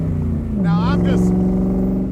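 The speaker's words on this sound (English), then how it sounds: "barely touching the accelerator there." A 1965 Shelby Cobra Factory Five replica's engine at light throttle, a loud, close steady rumble that dips slightly in pitch, with a brief voice heard over it midway.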